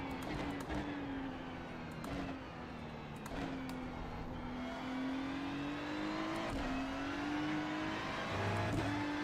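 A Ferrari GT3 race car in iRacing drives a bumpy, tricky track, a steady high engine whine rising and falling through gear changes with brief shifts, continuous and close.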